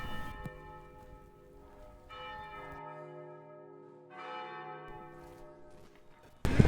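Church tower bells ringing in Bologna, Italy, with long sustained tolls swelling and overlapping, resonant and moderately near, before a sudden loud noise at the end.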